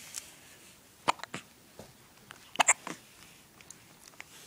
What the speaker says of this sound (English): Can't stop hiccuping again.